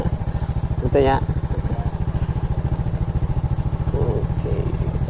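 A motorcycle engine runs steadily and close by on a smooth village road in southern Brebes, its rhythmic drone continuing throughout while a person speaks briefly over it.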